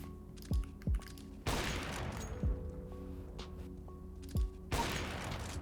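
Gunfire in a video game played with a gaming mouse, several sharp single shots and short bursts with booming decays, mixed with faint mouse and key clicks, no talk.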